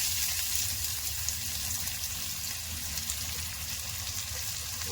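Mustard seeds crackle and sizzle in hot oil as a mango rice and egg thokku are cooked, a steady, dense frying hiss that runs close and unbroken with no talking.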